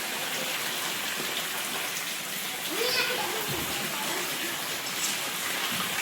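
Rain falls steadily in a village, a continuous wash of hiss, while children's voices and play are heard in the background.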